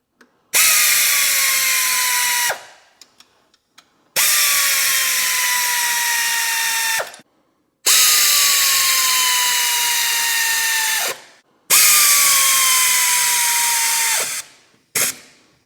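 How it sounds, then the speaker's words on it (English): A power driver with a 1/4 inch drive snugs bolts on an aluminum EGR part of a 1999 Ford Escort, running in four long whirring bursts of two to three seconds each with brief pauses, loud and close, no talking. "We're just going to snug them up good with a 1/4 inch drive."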